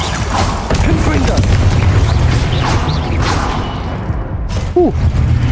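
Confringo fire spell exploding in Hogwarts Legacy, with whooshing bursts and booming blasts amid battle noise, while a voice talks over part of it.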